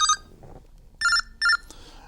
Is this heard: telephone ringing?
yes